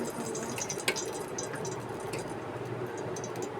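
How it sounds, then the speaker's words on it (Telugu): Two tablespoons of oil poured into a well-heated pan while making corn rice, giving a steady, close hiss with small drip-like crackles throughout. "ప్యాన్ మంచిగా హీట్ ఎక్కాక దీంట్లోకి మనం ఒక 2 టేబుల్ స్పూన్ ఆఫ్ ఆయిల్ వేసేసుకోవాలి"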